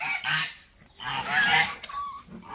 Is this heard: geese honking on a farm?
yes